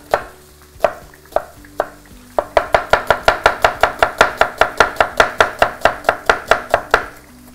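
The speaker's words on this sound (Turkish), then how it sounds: "Mümkün olacak kadar küçük doğrayın." A kitchen knife chops vegetables finely on a cutting board, a few spaced strokes first, then a fast, even run of sharp, close taps, with no talking.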